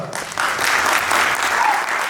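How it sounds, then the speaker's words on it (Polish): Audience at an awards gala for a portrait competition gives a steady burst of applause, even, moderately loud clapping that fills the full two seconds. "Wielkie brawa."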